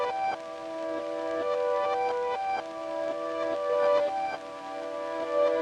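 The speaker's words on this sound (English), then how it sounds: "So I then found this sound on the plugin Sky Keys, which I love. There is this crackle reverse piano." A crackle reverse piano patch from the Sky Keys plugin plays soft swelling chords with a faint vinyl-like crackle underneath, steady and close with no voices.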